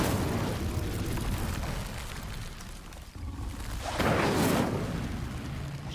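An Incendio fire spell is cast in the video game Hogwarts Legacy, a loud fiery whoosh and burst with a rushing roar that swells near the end over continuous rumbling noise.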